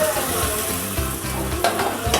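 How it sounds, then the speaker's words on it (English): Methi seeds crackling and sizzling in hot oil for a sambar tadka, a steady close frying hiss with faint stirring scrapes and no speech. "and fry it nicely. You can see the tadaka."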